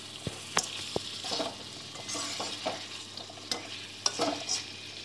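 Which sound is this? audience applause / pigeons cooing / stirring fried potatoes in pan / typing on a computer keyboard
stirring fried potatoes in pan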